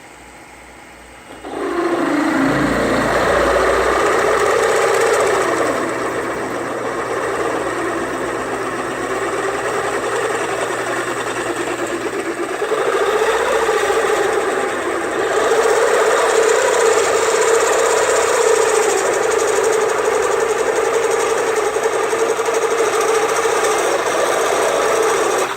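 A Grizzly G0704 belt-drive mill drives a 5/8 drill bit into steel, a grinding, rasping cut with a motor hum that starts abruptly after a quiet moment and holds loud and steady, swelling slightly at times.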